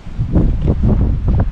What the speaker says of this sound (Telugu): గాలి కూడా బీభత్సంగా ఇస్తుంది